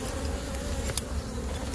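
Carniolan honey bees swarm around an opened hive, filling the air with a dense, steady, close buzzing hum and no talk.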